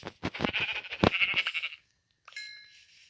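A Minecraft sheep bleats in a short, wavering call, followed after a brief pause by a quieter, shorter bleat. There is no talking.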